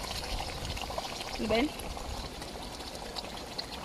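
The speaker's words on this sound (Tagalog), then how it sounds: "Mainit na tubig yan na galing sa" Steady flowing hot spring water pouring and splashing throughout in Tucucan, Tinoc, Ifugao, moderately loud, with a brief spoken word briefly rising over it.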